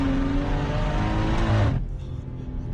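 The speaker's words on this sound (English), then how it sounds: "you can just hear that external wastegate" A heavily boosted BMW M240i with a big GTX1000 turbo and external wastegate accelerates hard, its engine roaring and climbing in pitch before abruptly cutting off to a quieter, hissing lull.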